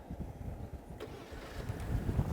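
A 2022 Genesis GV70 SUV starts by remote key: a sharp click of ignition, then the engine catches and settles into a steady, slightly rising low rumble nearby.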